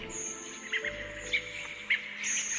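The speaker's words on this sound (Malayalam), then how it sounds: "കിളികളുടെ ശബ്ദം നിങ്ങൾക്ക് കേൾക്കാൻ കഴിയും." Small birds chirp in a flower garden, a few short bright calls popping out over a steady high hiss and soft background tones.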